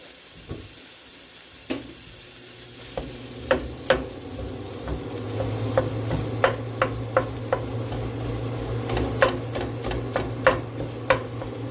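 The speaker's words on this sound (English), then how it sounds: "Do this for 8 to 10 minutes, or until the meat has been fully browned." Lamb browning in a hot pan, a quiet steady sizzle broken by scattered sharp crackles and pops, with occasional stirring clicks, close and alone without talk.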